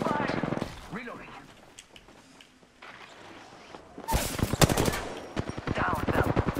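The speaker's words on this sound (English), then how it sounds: "Taking fire." Gunfire in the battle royale game Apex Legends: bursts of rapid automatic shots that grow loud in the second half, with someone talking over the opening and game sounds between.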